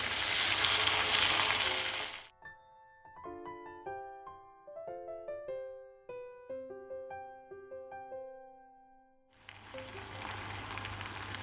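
Eggplant frying loudly in a pan sizzles hard, then a gentle plucked melody plays over near-silence before the sizzling and stirring return at full volume.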